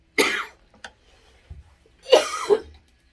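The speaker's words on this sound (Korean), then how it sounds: "이거 기침이 계속 나와서." Two harsh coughing bursts close up, a short one and then a louder double cough, with a faint breath between, from fumes of chili peppers stir-frying.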